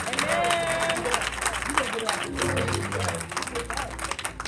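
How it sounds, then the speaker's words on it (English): A church congregation applauds and claps steadily in praise throughout, with a preacher's voice speaking over the dense clapping. "let's give the Lord a hand clap of praise"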